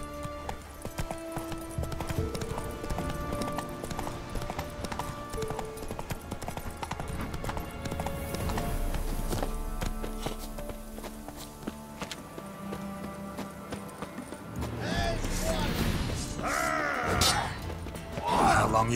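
In The Witcher 3, a horse's hooves clop rhythmically under dense orchestral game music, with a whinny and a short burst of louder action sounds near the end.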